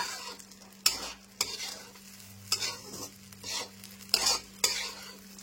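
A spoon scrapes and stirs sabudana khichdi in a hot pan with repeated sharp strokes over a soft, steady sizzle, close and alone with no talk.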